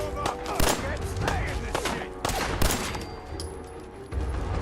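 Gunfire in Fallout 4 during a raider fight, with repeated sharp shots in irregular bursts, some close and loud, over a busy game background, with a voice talking intermittently.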